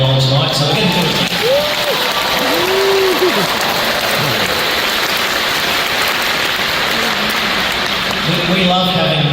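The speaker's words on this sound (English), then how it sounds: "Mikey normally gets a rock star applause for coming along tonight, so we're going to do it" A large audience at a citizenship ceremony gives the interpreter loud, sustained applause, a dense rain-like roar of clapping with cheering voices rising over it near the start, and a voice speaks again as it fades.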